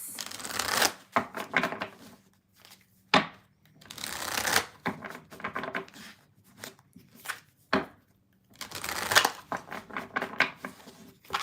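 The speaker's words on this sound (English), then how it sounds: "I'm going to shuffle" Tarot cards shuffled in repeated bursts of crisp riffling and flicking, with short pauses between rounds, close and moderately loud.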